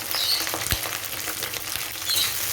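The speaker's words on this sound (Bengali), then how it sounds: "প্রথমে আমি দিয়ে দিচ্ছি ফুলকপিগুলো ভেজে নেবার জন্য" Cauliflower florets frying in oil in a pan, giving a steady bright sizzle with crackling pops and an occasional soft stir or scrape, close and continuous throughout with no talking.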